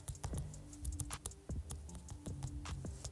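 Rapid, irregular clacking of keys on a computer keyboard while designing a pink neon sticker for a thumbnail, close and fairly quiet, with bursts of taps and short pauses and no voice.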